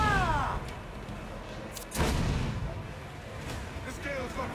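Ship cannons firing during a naval battle against a fleeing slaver ship in Assassin's Creed IV, a heavy boom around the middle amid rumbling battle noise and shouting voices.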